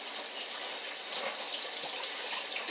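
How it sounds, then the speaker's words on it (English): A kitchen tap runs steadily while hands are washed with soap, a continuous close splashing hiss with no talking. "A little bit of soap and water."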